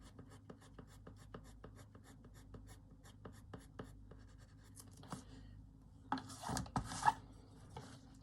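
Karisma colour pencils from a rare full set of 129 are swatched on paper, giving steady repeated scratchy strokes in a regular rhythm, followed near the end by a louder burst of rubbing and shuffling.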